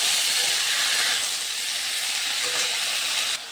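Something frying in a pan until reddish, a loud steady hiss and sizzle close by, easing slightly partway through and dropping off near the end.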